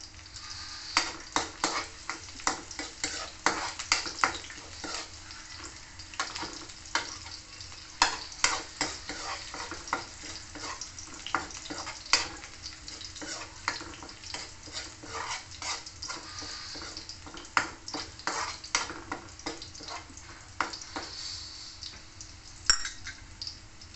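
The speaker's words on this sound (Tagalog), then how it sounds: "Magigisa na po." Ginisang monggo ingredients being sautéed in a pan: a steady sizzle under frequent sharp scraping and clinking of a utensil stirring against the pan, close and busy throughout, with no talking.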